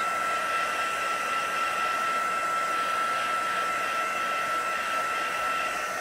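A heat gun blowing over a handmade card, a steady close whooshing drone with a constant high whine, alone and unbroken throughout.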